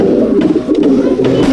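Old Line Madrasi pigeons in a loft at Rajarhat, Kolkata, give a continuous close, loud throaty cooing for a short stretch, with no talking.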